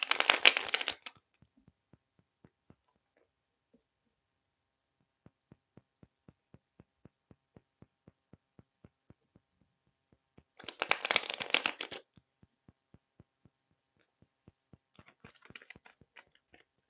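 Tarot cards are riffle-shuffled in two short, close bursts of rapid papery fluttering, separated by a quiet stretch of soft, evenly spaced clicks and taps.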